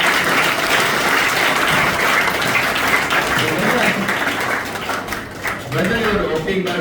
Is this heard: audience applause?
yes